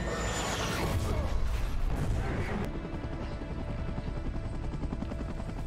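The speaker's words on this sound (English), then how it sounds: "Enemy helicopter." Helicopter rotor thumping under a loud mix of booms and mechanical noise in the film Top Gun: Maverick, the chopping continuing steadily after the blasts fade.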